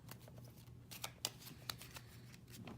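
5 Minute Dungeon card game cards being shuffled by hand, soft quiet riffling and rustling with a few sharper snaps, close and faint with no talking.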